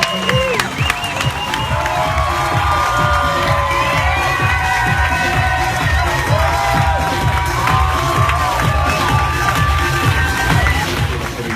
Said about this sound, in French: Monsieur Yannick Daigle, une bonne main d'applaudissements, s'il vous plaît.